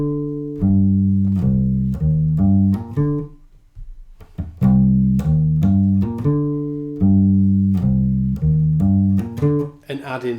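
Electric bass guitar playing a steady bass line with no articulation or dynamics: evenly weighted, sustained notes in a plain repeating rhythm, close and loud, with a short gap midway and no voices.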